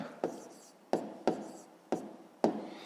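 A pen writes by hand on paper during a fifth-grade maths exercise, five quick separate strokes, quiet and close, each a short scratch fading off.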